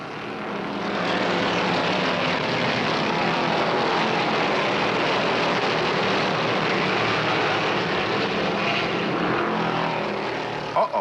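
NASCAR stock cars, including Chevelles and Fords, racing at Riverside in the 1971 Motor Trend 500: a dense, loud, sustained engine roar that swells in and holds steady, like a pack passing close by.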